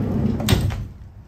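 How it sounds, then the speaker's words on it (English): A side door on a 2020 LDV G10 HD commercial van is opened in a single brief mechanical clunk and slide, close and clear over low ambient rumble. "Open the doors on this side."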